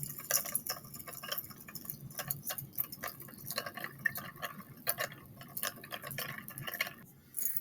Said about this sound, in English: I'm going to add a stir bar and let it do the work for me and stir